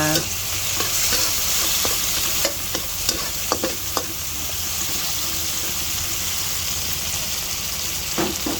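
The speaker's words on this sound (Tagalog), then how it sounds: "lutuin maiging kamatis add natin ang ating luya" Tomatoes and ginger sautéing in a hot pan for a bangus dish, giving a loud, continuous sizzle and frying hiss throughout, with a few brief scrapes and clinks from stirring.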